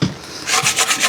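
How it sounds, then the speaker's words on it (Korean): Sandpaper rubbing by hand over the welded repair on a cracked car wheel, a short burst of rough rasping strokes in a quick back-and-forth rhythm, close and fairly loud. "이쪽에는 정확하게 맞춰주고 사포질까지 해야지"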